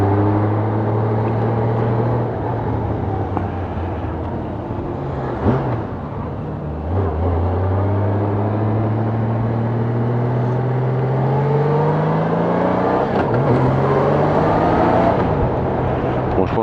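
A Royal Enfield Himalayan motorcycle rides through a brake test, its single-cylinder engine droning steadily and close, dipping as the bike slows and rising again as it picks up speed, with a voice talking faintly underneath.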